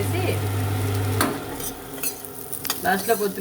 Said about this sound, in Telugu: ఇలా కలుపుకొని కొంచెం కరివేపాకు వేసుకొని మళ్ళీ కాసేపు కలుపుకోవాలి